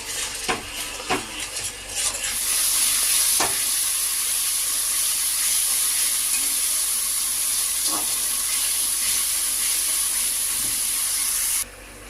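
Spice paste for Bhola fish curry fries in a pan with a little water, giving off a loud hissing sizzle after a few clinks of utensils at the start, then cutting off near the end.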